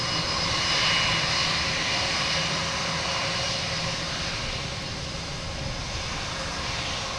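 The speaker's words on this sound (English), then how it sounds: "There's a JetBlue coming in" A JetBlue jet airliner arriving from Orlando comes in to land at Boston Logan, a continuous loud engine roar with a faint whine that eases slightly as it passes, no voices.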